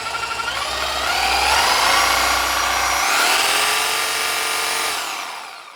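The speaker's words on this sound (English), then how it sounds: "I've got other reciprocating saws, as this thing runs really smooth" A corded Milwaukee 15-amp Super Sawzall reciprocating saw runs unloaded close by. It spins up into a loud, smooth, rising whine, holds steady for a few seconds, then winds down.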